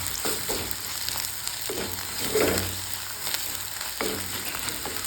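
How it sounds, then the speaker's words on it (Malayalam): Turmeric and Kashmiri chilli being stirred into a mango fish curry in a pan: continuous sizzling with soft scrapes and stirring knocks, one slightly louder clatter midway, close and steady with no voices. "ഇനി ഒന്ന് ഇളക്കി യോജിപ്പിക്കാം"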